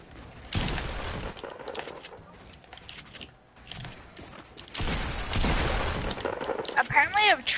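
Gunfire in a Fortnite-style build-battle shooter: bursts of rapid shots loud over dense game noise, with people talking throughout and a clear shot sequence near the end.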